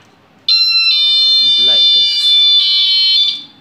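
A homemade battery-powered fire alarm built as a class 12 school project with a temperature switch blares a loud, steady electronic tone that cuts in suddenly, holds for about three seconds with a brief spoken word underneath, then fades out.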